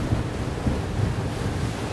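Strong wind at sea buffets a Rock 36 rib boat, with steady roaring wind noise and wave wash at constant loudness throughout and no clear speech.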